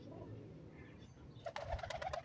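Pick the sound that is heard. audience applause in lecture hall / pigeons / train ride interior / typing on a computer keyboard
pigeons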